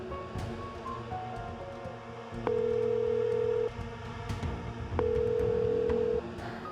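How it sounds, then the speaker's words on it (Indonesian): Telephone call ringing unanswered, with two long electronic ring tones separated by a gap over a faint background hiss, fairly close and clear with no one speaking. "Aduh, Dek Kirana, angkatlah"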